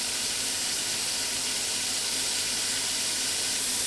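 Beef browning in a hot pan gives off a steady, loud hiss and sizzle as steam evaporates, a continuous bright frying noise with no pauses and no talking.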